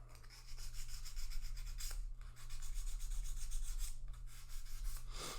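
Sandpaper rubs along the sides of guitar frets during a partial fret dressing, close repeated scraping strokes in an uneven rhythm over a steady low electrical hum.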